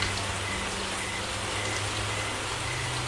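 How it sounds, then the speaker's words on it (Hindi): Heavy torrential rain pours in a steady, even hiss with a low constant rumble beneath, soft and unbroken throughout with no voices. "जोरदार मूसलाधार बारिश शुरू हो जाती है।"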